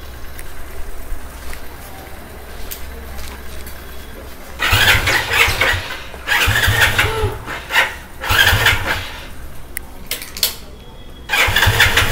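A motorcycle engine cranks in four loud bursts separated by pauses, sputtering each time without catching. A quiet background hum runs between the attempts.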